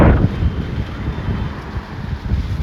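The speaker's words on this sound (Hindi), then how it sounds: "इस बहुत जोर से यहाँ हवा चल रही है" Strong wind gusting across a Ganga ghat in Banaras, a loud buffeting rumble battering the microphone with an initial heavy blast and continuous roaring gusts, no talking.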